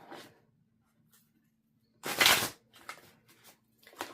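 Cards riffle and slap together in a loud shuffle, followed by several softer flicks and taps of the deck in a quiet room.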